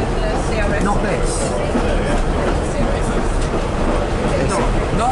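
A Pacer diesel train runs along the rails between Clarbeston Road and Fishguard Harbour, heard from inside as a loud, continuous rumble and rattle with faint clicking from the track.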